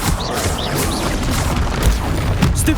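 Spell combat in Hogwarts Legacy with repeated Stupefy stunning spells, heard as a dense, loud run of booming magical blasts and crashes with whooshing sweeps, continuous and without pause.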